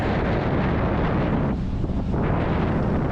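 Strong northwest wind at sea off Senegal buffets a boat, a loud, constant rushing roar with heavy wind noise on the microphone and a brief dip partway through.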